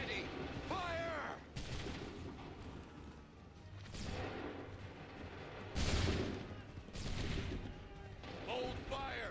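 Musket volley fired on command in Assassin's Creed III, several loud broadband bursts spaced a few seconds apart, with shouted voices between them.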